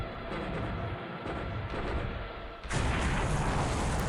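A torpedo striking the cruiser USS Chester during a Coral Sea naval battle game: a dull rumbling boom, then a sudden loud, broad explosion that stays roaring until the end.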